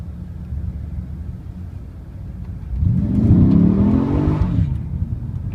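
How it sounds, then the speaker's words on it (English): A Pontiac GTO with an LS2 V8 revs hard while its rear tires spin. A low idle rumble surges into a loud, rising engine roar partway through, with no talking. "you won't even need to press the throttle all the way to the floor, and you'll get some pretty serious wheel spin"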